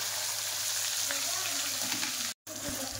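Masala paste fries in hot oil on a lowered gas flame, giving a dense, continuous sizzle close by with faint stirring. A brief dropout cuts it near the end.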